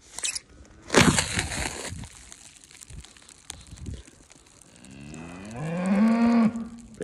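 Cattle on a farm, one cow letting out a long, loud moo near the end, preceded by scattered rustling and crunching handling noises close by, with no talking.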